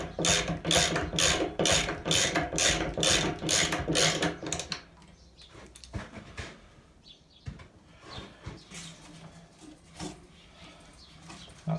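A ratchet tightens the pulley wheel on an Indesit washing machine, with about a dozen rapid, evenly spaced clicking strokes up close, then quieter scattered clanks and handling noises.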